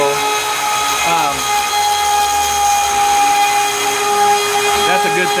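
An MPCNC router milling aluminum, helically cutting out a hole, gives a steady, loud high whine with sustained tonal lines throughout, while a person talks over it.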